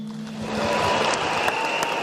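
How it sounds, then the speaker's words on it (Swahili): Audience applause at a swearing-in ceremony, a dense wash of clapping that swells slightly and holds steady. "Tumpigie makofi."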